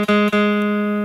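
A guitar string fretted without enough pressure gives a buzzy, slightly muted tone, plucked in two quick attacks that then ring steadily, close and clear, with no one talking.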